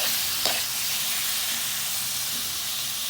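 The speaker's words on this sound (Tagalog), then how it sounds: "Lagay na natin yung pork." Pork pieces sizzling in a hot pan with garlic and onion for estofado, a steady close frying hiss throughout with one brief sharp crackle near the start.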